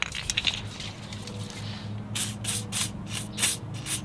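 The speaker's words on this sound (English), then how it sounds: "This is a fantastic time to spray down the bolts." Penetrating oil sprayed onto wheel hub bolts during a trailer bearing job, a series of short, close hissing bursts in uneven rhythm after a stretch of low mechanical rubbing and background hum.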